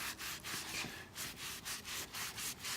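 Sandpaper rubbed by hand over the wooden staves of a wine barrel being reconditioned, a rhythmic back-and-forth scratching of about eight close strokes, with no talk.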